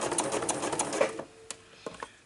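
A sewing machine stitches forward through fabric on a raw-edge reader glasses case, a steady mechanical whirr for about a second, then several sharp clicks and taps.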